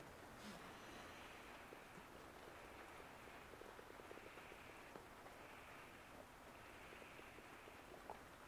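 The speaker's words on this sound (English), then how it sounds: "It's always great to hear the rain on the roof." Rain patters faintly and steadily on the roof of a shed, a soft, even hiss of drops with occasional slightly louder taps, distant and calm, no voices.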